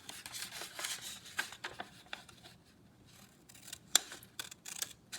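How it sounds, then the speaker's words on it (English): Scissors snipping through paper for a pop-up house, soft close crisp cuts and rustles at a low level, with one sharper snip near the end. "Put my scissors in there. I'll cut past that angle."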